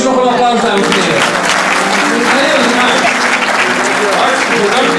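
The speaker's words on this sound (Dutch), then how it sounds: "En geef ze nog een applaus, dames en heren." Sustained applause from a large audience at a Dutch Dream Foundation event, dense and steady clapping throughout at a loud, even level.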